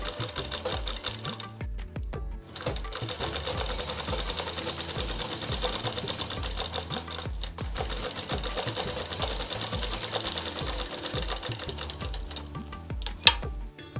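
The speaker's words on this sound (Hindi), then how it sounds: "तो ये हमने आस्तीन की सिलाई कर ली है" Sewing machine stitching a double-folded frock sleeve, running steadily and rhythmically throughout with two brief pauses, moderately close.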